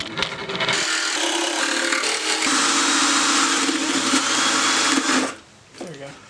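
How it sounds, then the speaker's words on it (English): A jigsaw saws through wood for a small custom guitar body, running as one loud, steady buzzing cut for about five seconds before stopping, with a brief rattle afterwards. "Jigsaw time."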